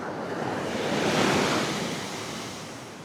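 Pacific Ocean surf breaks before a seafront building, one broad wash swelling and fading, loud and close, with wind buffeting the microphone.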